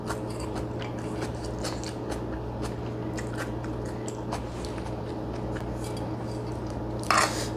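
Close, crisp crunching and chewing of a mouthful of rice with crunchy onion, steady irregular bites over a low background hum, with a brief louder clink near the end.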